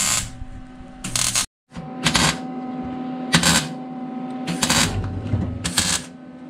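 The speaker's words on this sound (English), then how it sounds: "So we're gonna weld those up." MIG welder sealing factory drain holes in the rusty steel floor of a 1952 Studebaker 2R5 half-ton truck cab, heard as several short close crackling bursts separated by brief pauses, over a steady shop hum.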